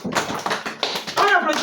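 A few quick, irregular claps from children at a Sunday school church service, with children's voices and speech mixed in close by.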